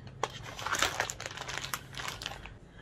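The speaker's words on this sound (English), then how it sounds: "Oh, and I'm housing this in a plastic bag." A plastic bag crinkles and rustles close up in irregular bursts of crackling, with a faint low hum and no speech.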